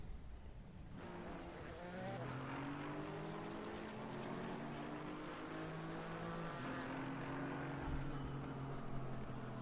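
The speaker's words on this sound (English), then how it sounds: "and now the cars are moving. This is the moment when the formation lap is starting" Several race cars rolling off together on a formation lap at Spa in Assetto Corsa Competizione, a layered engine drone with rising and falling harmonics from multiple cars, steady and fairly close, with no talking.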